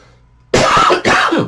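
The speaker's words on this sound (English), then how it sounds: "that cough is just not going away" Two harsh, close coughs in quick succession, each a loud burst of rough air, following a moment of near silence.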